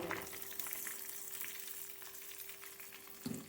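Curry leaves crackle and fry crisp in hot oil while tempering a tamarind chutney with asafoetida, a steady close sizzle with scattered pops throughout and no talking.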